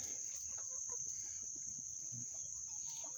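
Soft clucking from a few chickens amid a constant high insect-like whine, with no one speaking.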